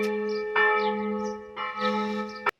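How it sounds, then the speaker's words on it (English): Church bells in Rouen, rung by a bell ringer, sound in loud, ringing strikes that overlap into a continuous sustained tone, one fresh strike landing near the end before an abrupt cut. "this bell ringer is going absolutely crazy right now"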